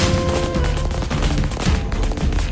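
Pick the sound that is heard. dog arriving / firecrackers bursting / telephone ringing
firecrackers bursting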